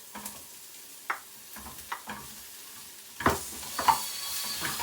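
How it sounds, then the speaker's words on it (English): Zucchini and chestnut mushrooms cook in a pan, heard as a soft low sizzle broken by several distinct clacks and scrapes of a utensil stirring the pieces at irregular intervals, close by with no talking. "And now we add the zucchini and the chestnut mushrooms, and we cut it to the bite size."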